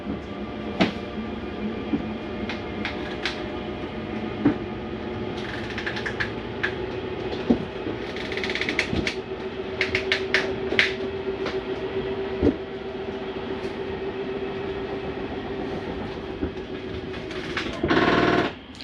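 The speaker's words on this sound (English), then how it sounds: "That's the slide mechanism keeping itself from coming in too far." The slide-out mechanism of a Prowler 303BH RV retracts with a steady low mechanical drone and hum, broken by scattered clicks and clunks, ending in a brief louder grinding surge.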